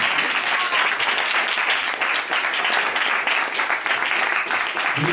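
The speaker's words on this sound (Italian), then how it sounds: "Facciamo un applauso anche a tutti gli altri poeti in gara." Sustained, dense applause from a crowd at a poetry slam final, steady and loud throughout with no pauses.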